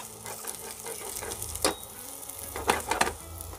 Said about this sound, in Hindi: ये रही जिंजर और ये रहा गार्लिक, इन दोनों को ऐड कर लूँगा और अच्छे से इनको पका लूँगा